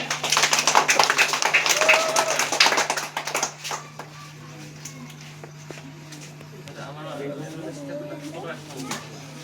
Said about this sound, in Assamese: হাত চাপৰি দিয়া তোমালোকে।